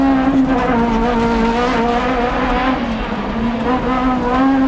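A 1995 Renault Clio Maxi rally car driven hard in a forest stage, its engine roaring loud and close with a sustained high-revving drone and tire squeal as it skids along.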